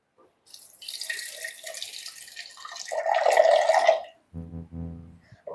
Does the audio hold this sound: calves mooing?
no